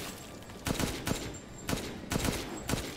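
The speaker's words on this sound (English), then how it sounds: "I can just keep shooting all day." Gunfire in Resident Evil Village rings out in five sharp shots spaced roughly half a second apart, loud and close over a steady game background.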